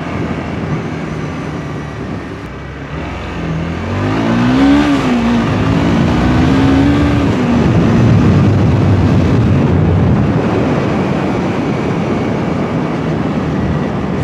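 Kawasaki Versys 250cc motorcycle engine revving at low RPM near a bamboo forest in Bali, a steady drone that rises in pitch around the middle and then settles, continuous and fairly close.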